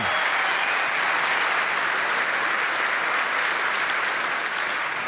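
Sustained applause from a large audience at a presidential debate, a dense steady wash of many hands clapping at close range, holding loud for the full stretch without any voices breaking through.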